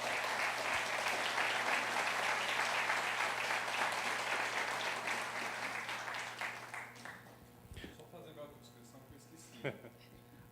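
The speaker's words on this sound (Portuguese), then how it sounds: "Uma salva de palmas." A room full of people at an awards ceremony applauds loudly and steadily, the clapping thinning out and fading toward the end with a few scattered last claps.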